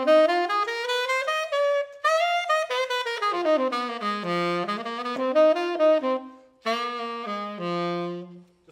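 Blues scale played up and down on a single melodic instrument, alone and close: a clean run of sustained notes climbs and falls, with a brief gap near the end before the line resumes.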